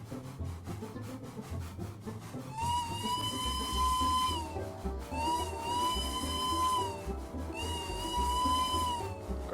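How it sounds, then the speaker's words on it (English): Three long blasts of a steam locomotive whistle, each a shrill sustained chord, over a rhythmic chuffing engine at full throttle in a railroad video game. "Our whistle, our locomotive is at full throttle now."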